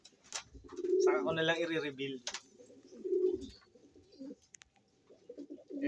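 Racing pigeons coo in soft, throaty rolling calls close by, several bursts across the moment, while a person speaks quietly in between.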